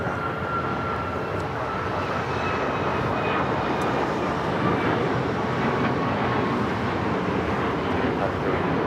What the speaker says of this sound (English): This is United Airlines 502 taking off to Phoenix on the MAX 9.